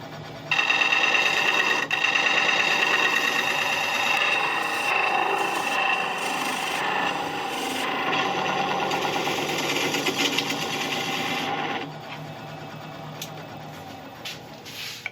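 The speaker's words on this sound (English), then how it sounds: "I'm just going to take a straight pass through it with a bowl gouge." A bowl gouge cuts thuya burl spinning on a wood lathe, giving a continuous loud rasping, hissing shear over the motor hum that eases off near the end, close, no talk.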